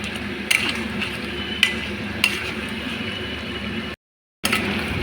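Mutton curry with potatoes being stir-fried in a pan: a steady close sizzle and stirring hiss with a few sharp spatula clicks against the pan, broken by a brief gap of silence.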